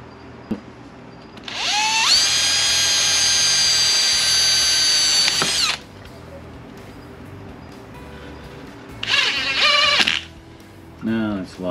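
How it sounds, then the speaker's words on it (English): A power drill bores a hole during a headlight and camera mount upgrade on a mobility chair, whining loudly and steadily for about four seconds, then giving a shorter second burst, close by. "Next step is to drill a hole right about here."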